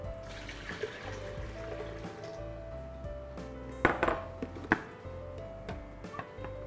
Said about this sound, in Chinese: 倒入水